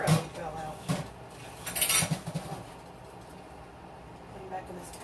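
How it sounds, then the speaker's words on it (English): Pans and utensils clink and clatter in a short cluster while a pan of ziti noodles is handled, close by, then things go quieter with a faint voice in the background. "I think I'm going to actually put this back in the bigger pan"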